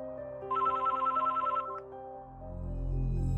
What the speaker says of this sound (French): le téléphone de la gendarmerie sonne.